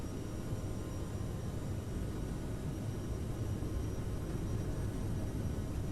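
Aerosoft CRJ jet engines spooling at takeoff power in a flight simulator, a dense steady roar with a broad rumbling low end, loud and constant throughout.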